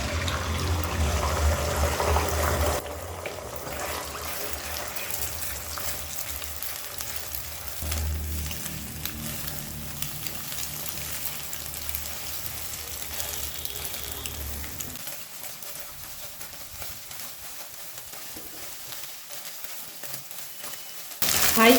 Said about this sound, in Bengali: কড়াইতে এবার 2 টেবিল চামচ তেল দিয়ে ডিমটা ভেজে নেব।